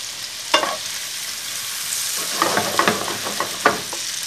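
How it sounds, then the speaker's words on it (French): Onions sizzle in oil and melted butter in a frying pan, close and steady, with a few stirring scrapes and clacks scattered through the second half. No voices. "Je vais maintenant mettre à fondre dans une poêle de l'huile et du beurre. Et j'y ajoute mes oignons que je fais légèrement rissoler."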